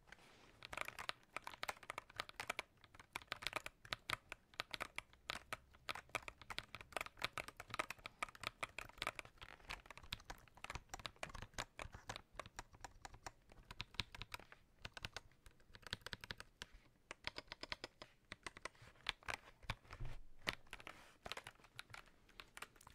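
Dense, rapid keyboard typing, close and steady, with clicky keystrokes running continuously and no voices.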